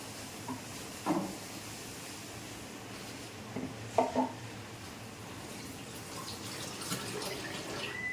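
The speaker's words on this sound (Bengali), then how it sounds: "খালি চাল ধোয়াটা বাকি আছে" Tap water runs steadily while rice is washed, with a few soft splashes and clinks of a vessel over the flowing stream.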